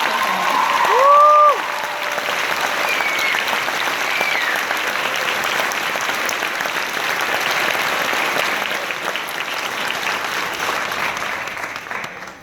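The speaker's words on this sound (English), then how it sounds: "can we get a round of applause for the parents, VISPA staff, and adjuncts" A graduation audience applauds steadily and loudly, sustained clapping filling the whole stretch, with a brief cheer or whistle near the start.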